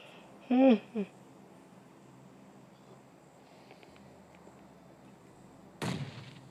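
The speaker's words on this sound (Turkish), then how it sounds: "bak bak bomba atıyor" A single sharp grenade blast goes off near the end in the PUBG Mobile battle royale game, loud and broadband, after a brief voice and a long stretch of quiet game ambience.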